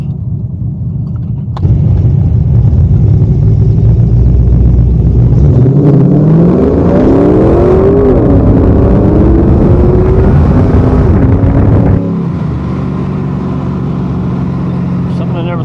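A 2002 Camaro SS with 3.90 gears accelerating hard in a 0-60 run, a deep loud engine roar climbing in pitch through several gear shifts before easing off into a lower steady drone, with voices speaking over it.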